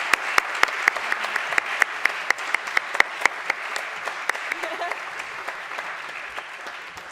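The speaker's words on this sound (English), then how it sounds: "A round of applause for our first panel." Applause at a British Exploring Society celebration evening as a panel finishes, with sharp individual claps standing out over a thinner spread of clapping that gradually tapers off.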